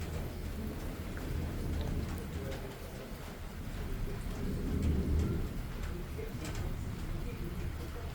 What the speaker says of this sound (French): Oh, j'adore cet orage.